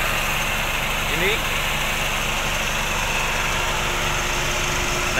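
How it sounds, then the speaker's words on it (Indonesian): A 1985 Honda Accord 1600 saloon idles with a steady, smooth engine hum and constant broadband noise. Speech in the clip is likely but unconfirmed. "Ini mesinnya seperti ini. Suaranya juga masih cukup halus."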